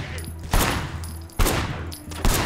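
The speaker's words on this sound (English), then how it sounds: "Firing shots from the passenger window" Gunshots ring out in Sleeping Dogs, fired from a car's passenger window: three loud, sharp blasts spaced about a second apart, each with a short ringing tail over a low engine hum.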